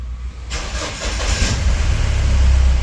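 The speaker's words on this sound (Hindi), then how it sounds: "अभी हम इग्निशन ऑन करेंगे और स्टार्ट करके देखेंगे" A Mahindra Bolero Pickup engine cranks and catches, then settles into a loud, rough, low idle that grows steadily heavier, close by with no talk.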